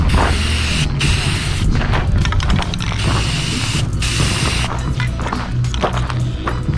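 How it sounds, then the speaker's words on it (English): Spray gun laying paint on a side window panel, a loud continuous hiss broken by short pauses between passes, with mechanical rattling clicks and a voice briefly in the background. "we're going to go ahead and lay some paint on this thing."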